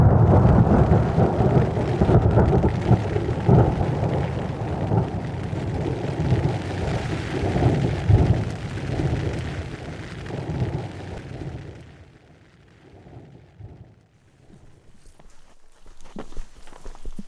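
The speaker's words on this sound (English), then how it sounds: "it started raining. The radar doesn't say it's going to last very long, but it's raining a decent amount right now" Steady rain falls outdoors during a thunderstorm in the wild, a dense low rumbling wash that stays loud for about twelve seconds, then drops to a quieter patter with faint scattered sounds near the end.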